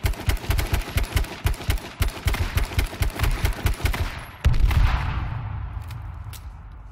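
Rapid bursts of automatic gunfire in H1Z1 are aimed at a jeep, a loud, fast rattling volley of shots ending in a heavier blast that fades out.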